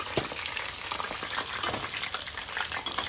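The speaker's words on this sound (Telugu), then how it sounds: "హై ఫ్లేమ్ మీదనే ఫ్రై చేసుకోవాలి." Mushrooms for pickle frying on a high flame, a continuous dense crackling sizzle with scattered pops, heard alone at moderate level.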